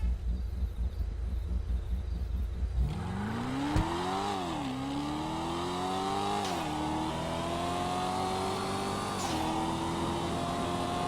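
A tuned Blackfin car in GTA 5 races hard, its engine revving up and shifting through several gears in a rising, falling sawtooth pattern, loud and continuous, with no talk.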